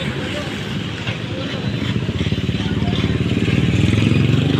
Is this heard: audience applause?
no